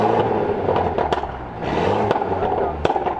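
A Mercedes C300 with its Valvetronic exhaust valves held open gives a few short, sharp revs with crackling and popping between them, close and fairly loud with no talk over it.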